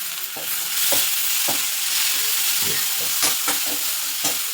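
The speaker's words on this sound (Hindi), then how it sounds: "अब मैं ये टमाटर लूँगी, ये सारा टमाटर इसमें डाल दूँगी।" Chopped tomatoes added to roasted spices in a hot pan for sambhar, giving a loud, continuous sizzle and hiss with intermittent scraping and stirring sounds close by.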